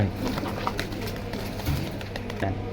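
Neo pigeons cooing nearby, soft low repeated coos over a steady background hum, with no talk.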